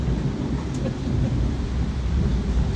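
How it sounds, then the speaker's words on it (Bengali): Steady rain with a deep, continuous rumble of thunder underneath, dense and fairly loud throughout. "এবার বৃষ্টিটা চলে এসছে"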